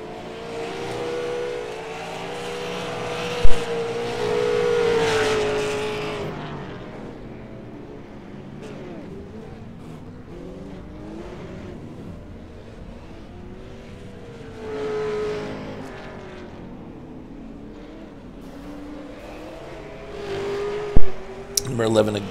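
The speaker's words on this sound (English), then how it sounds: "so you can hear race cars on the track" Race cars in an online racing game at New Smyrna, engines droning and revving steadily throughout, swelling as cars pass, under an announcer's commentary.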